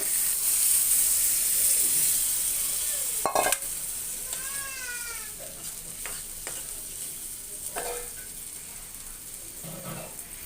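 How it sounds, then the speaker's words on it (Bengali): Water is poured into a pan of dried loitta fish cooking with ginger paste, and a soft, fairly faint sizzle and hiss runs steadily, with a few brief clinks of stirring over it. "পরিমাণ মতো পানি দিব"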